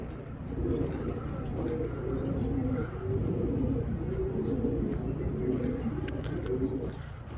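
Rare Sina pigeons cooing outdoors, soft repeated low coos that keep going steadily over a rumbling background, with a voice talking at times.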